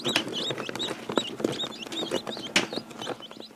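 Newly hatched chicks crowd a brooder room on a farm, filling the space with a constant chorus of high, thin peeping and cheeping from many birds at once, close and lively.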